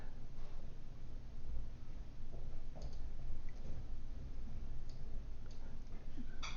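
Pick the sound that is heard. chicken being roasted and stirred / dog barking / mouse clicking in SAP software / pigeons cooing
mouse clicking in SAP software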